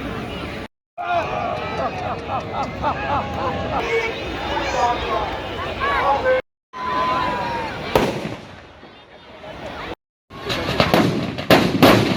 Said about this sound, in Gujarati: સાથે ભવ્ય આતશબાજી પણ કરવામાં આવી હતી